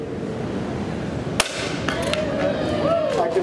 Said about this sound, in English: I can break that wood very easily.